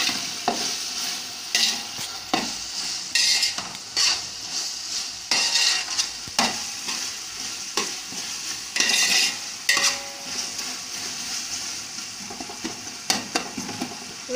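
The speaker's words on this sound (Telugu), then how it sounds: "పచ్చివాసన పోయేంత వరకు వేయించుకోవాలి" Ginger garlic paste frying in a pan for chicken curry, a bright sizzle broken by frequent scraping strokes and clinks of a spoon against the pan, no talking.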